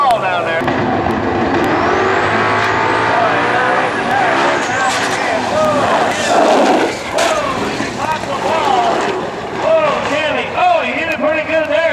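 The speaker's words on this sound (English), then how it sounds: "the car's still rolling, popping the wall down there" A drag race car hits the wall and keeps rolling at Atlanta Dragway, with loud engine roar and a sharp burst mid-clip, all under continuous excited commentary.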